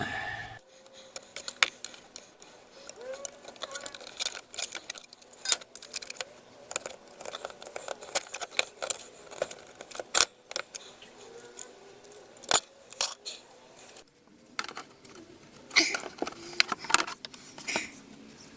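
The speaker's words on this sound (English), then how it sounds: "Just going to trim that corner off because it's in the way." Snipping and clicking from cutting off a corner during repair of a non-running air compressor, a busy stream of close, sharp cuts and small metallic taps, fairly quiet with no talking.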